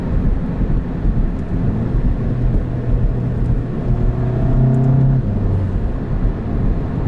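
Turbo intake whoosh and engine drone from a VW Golf GTI MK7 fitted with a CTS turbo intake, steady and loud, with a rising tone near the end as it accelerates.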